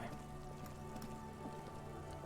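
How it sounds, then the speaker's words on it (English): Steady rainfall in the video game Disco Elysium patters continuously on surfaces, an even, close hiss of drops with no talk over it. "It's raining again."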